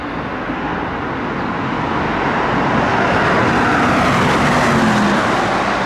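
An E-Type Jaguar races around the Red Bull Ring during a Vienna Jaguar Club track day. A loud engine roar builds and sustains as the car approaches and passes, with no talk over it.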